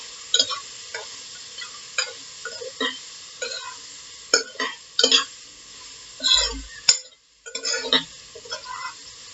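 Spiced dry potato sabzi is stirred and fried in a pan, with sizzling under a series of spoon scrapes and clinks against the metal.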